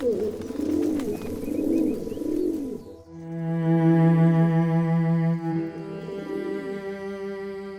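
Pigeons coo in a steady, rounded rhythm at close range, their soft calls repeating and overlapping with warm tonal harmonics, with no voices present.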